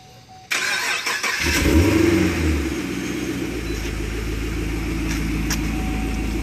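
The engine of a 2012 Chevrolet Camaro RS/SS Convertible cranks briefly, catches and fires up, then settles into a loud, steady, rumbling idle close by.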